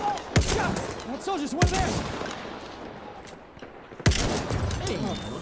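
Loud, isolated rifle shots crack out one by one with pauses between them in Battlefield 1 multiplayer, with a medic rifle firing amid battle noise and a voice talking.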